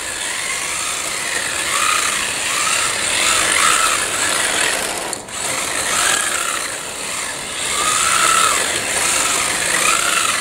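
A machine runs in normal forward rotation during oil damper maintenance, giving a steady, loud mechanical hum with a faint repeating whirr and one brief dip midway.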